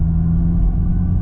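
Steady low engine rumble from a 600hp Honda Civic Si as it spools, loud and continuous with a deep, even drone and no voices over it.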